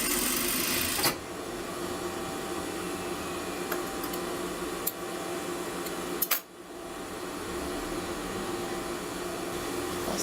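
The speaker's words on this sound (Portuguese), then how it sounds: "aqui eu vou virar pra dentro e dar uma dobra bem fininha e costurar" Sewing machine stitching a thin folded-in hem on clochard trousers, a steady mechanical whir running throughout with a brief pause partway, close and alone with no talking.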